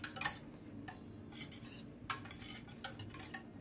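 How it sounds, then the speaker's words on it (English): A utensil stirs a mixture in a pot with light scraping and a few sharp metallic clinks and taps at an irregular rhythm, fairly quiet and close, no talking. "here you get a better view while I'm stirring."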